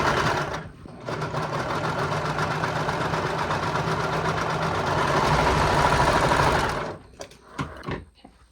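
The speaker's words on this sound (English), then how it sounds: "you're going to go ahead and sew this little crotch piece." A sewing machine stitches the crotch piece of a romper in one continuous steady run of about six seconds, loud and close. It stops, and a few soft handling clicks follow.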